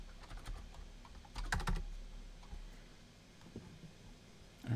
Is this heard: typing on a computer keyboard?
yes